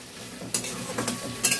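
Spices tempering in hot oil in a pan: panch phoron, asafoetida, dried red chilli and torn green chilli sizzling with a steady low hiss, joined by a few brief spatters and stirring scrapes.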